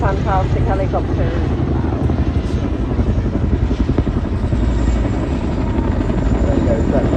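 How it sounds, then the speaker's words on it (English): A helicopter flies a display at an airshow, its rotor thumping and engine roaring loudly and continuously, with a public-address commentator's voice partly heard over it. "Fantastic helicopter."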